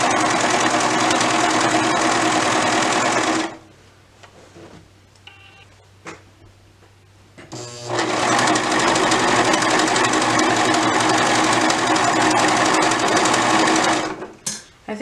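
A serger or sewing machine stitches fabric for a dress and A-line skirt, running in a loud steady whir for about three seconds, stopping, then starting again and running steadily for seven more seconds before a final brief burst.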